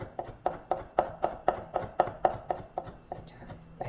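A kitchen knife finely julienning a thin egg white omelette for japchae, tapping the cutting board in a quick, steady rhythm of about fifteen close, crisp strokes.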